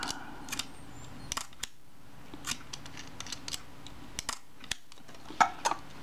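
Sharp mechanical clicks and clacks scattered over a quiet background, with a louder snap near the end, as a Kodak Retina I type 010 camera shutter is cocked and fired at about 1/25 second.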